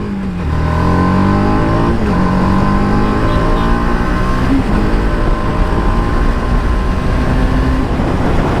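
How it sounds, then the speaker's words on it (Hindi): A TVS Apache RR 310 BS6 motorcycle accelerates through city streets, its engine note rising loud and steady through the gears, with heavy wind rush over the whole stretch. "भाई बाइक जो है स्पीड काफ़ी तेज़ी से पकड़ लेती है।"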